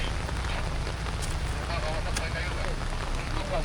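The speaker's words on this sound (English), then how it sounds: "now the rain is picking up pretty substantially." Steady heavy rain in a Borneo rainforest with a dense, continuous hiss and low rumble, unbroken throughout and fairly close.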